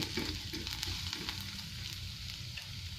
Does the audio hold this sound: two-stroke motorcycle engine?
no